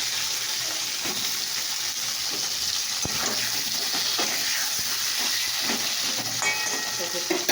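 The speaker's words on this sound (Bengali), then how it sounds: "মাছের তেলে আর কি পটলটা ভেজে নিচ্ছি।" Pointed gourd fries in fish oil in a pan, giving a steady broad hiss and sizzle with faint scattered pops throughout.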